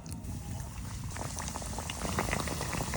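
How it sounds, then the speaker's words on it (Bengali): Potato snacks fry in hot oil, giving a steady, dense bubbling crackle close by with no voices. "এখন গরম তেলে ভাজতে হইবে।"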